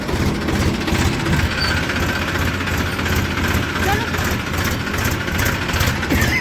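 A tractor engine rumbles steadily and continuously while pulling a trolley outdoors on a farm on a cold, windy day, with no clear changes in pace.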